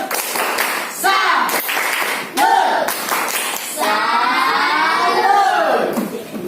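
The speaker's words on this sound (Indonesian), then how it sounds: "Kita tepuk salut dulu. Tepuk salut." Classroom of students does a rhythmic tepuk salut clapping cheer, loud and close, with patterned claps mixed with children's chanted voices in short bursts.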